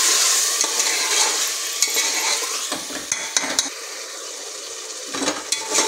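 Potatoes and tomatoes fry in a pan for desi khichdi while a spoon stirs them, a close, continuous sizzle broken by scraping and clinking strokes, with no talk.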